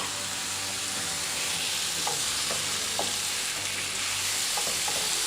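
Shrimp fry in a pan with a constant loud sizzle while being stirred, with a few soft scraping knocks of a utensil against the pan.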